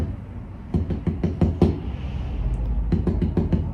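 Drumsticks tap a homemade practice pad covered with a blanket in short bursts of quick strokes with a brief pause between them, muffled, dull and thuddy.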